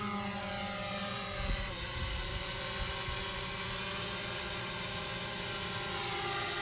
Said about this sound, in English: Let's do auto takeoff.